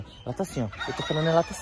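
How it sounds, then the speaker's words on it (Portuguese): A rooster crows in the background on a farm where fowl are raised, a drawn-out call heard behind a person speaking close by. "Parece que tem um galo cantando aí pra trás."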